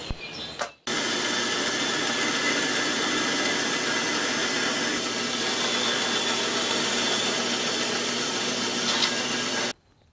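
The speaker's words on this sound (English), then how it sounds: "I'll just cut that out on the bandsaw." After a brief knock, a bandsaw cutting wood for a trestle table whirs steadily for about nine seconds at constant loudness, then cuts off abruptly.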